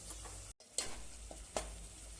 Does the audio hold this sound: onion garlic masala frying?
yes